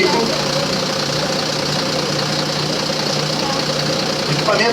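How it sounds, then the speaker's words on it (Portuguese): A hydraulic rescue cutter for vehicle extrication runs at a car crash scene, its power unit holding a continuous, loud mechanical drone with a steady hum throughout. "O equipamento que foi ligado é um desencarcerador, ao qual tem uma força hidráulica para romper qualquer parte do veículo"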